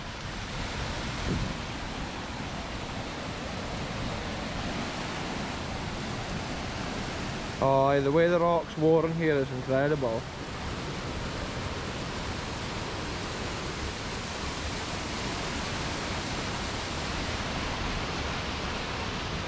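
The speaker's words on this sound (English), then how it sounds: "the whole river funnels down through this one little section" River water rushes steadily through a narrow rock section near Edzell, Scotland, a broad continuous roar heard close up, with someone speaking briefly over it midway.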